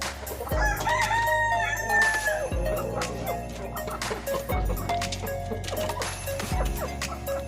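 Parawakan chickens cluck near a crowing rooster, whose long drawn crow rises over a busy yard of repeated short clucks and scattered thumps, with faint background talk.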